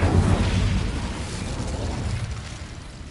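A fire spell cast in Hogwarts Legacy, heard as a loud, deep whooshing burst that fades steadily over about three seconds, with no talk over it.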